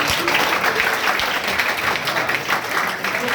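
Children in a classroom clap together in a dense, steady burst of applause for a few seconds, with faint voices mixed in.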